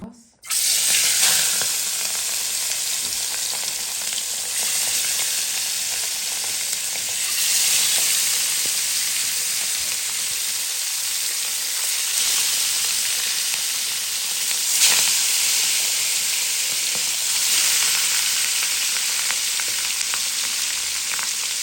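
Rui fish, rubbed with chili and salt, sizzles in hot oil in a home kitchen pan, giving a loud, steady hiss of frying that runs unbroken for the whole stretch with no talking.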